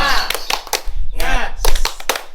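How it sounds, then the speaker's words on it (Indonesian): A group of women in a training session does a rhythmic motivational clapping chant, sharp close claps in short patterned bursts mixed with voices calling out together. "ayo kita tepuk semangat dulu."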